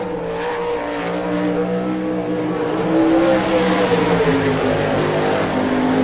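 A sprint car on a Maxim chassis with a Kistler engine runs a qualifying lap at an All Star Circuit of Champions race in Rossburg, Ohio, making a loud, sustained engine drone that swells and shifts pitch as it circles.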